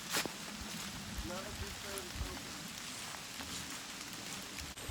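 Steady rain falls on a lakeside campground during van camping, a dense continuous hiss of drops on surfaces with a brief louder patter near the start and a faint low hum underneath.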